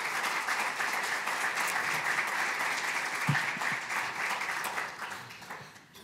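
An audience at a Press Club of Dallas panel on the press applauds its panelists, a dense steady wash of clapping that holds evenly before thinning out toward the end.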